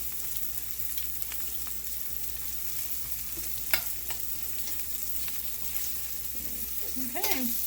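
Morel mushrooms fry in a skillet with cracker crumbs, giving a steady soft sizzle with scattered crackles and pops, close and continuous throughout.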